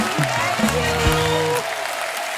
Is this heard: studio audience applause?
yes